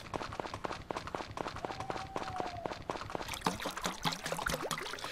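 A watering can is refilled in the Story of Seasons farming game. A run of quick, regular water-splash and trickle effects plays alone at low volume, ending in a few brighter pours.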